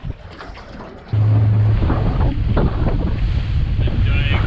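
A boat running home from a Mackay island fishing trip, with loud, constant engine and hull rumble mixed with heavy wind buffeting the microphone, jumping suddenly louder after a quieter first second.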